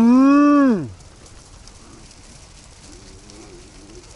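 A single loud, drawn-out moo from cattle on a New Zealand farm opens the scene and falls away after under a second. Faint, quiet outdoor ambience follows.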